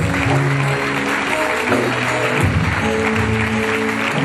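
Applause from a church congregation during a worship service welcoming a guest, dense and steady throughout with a faint voice underneath.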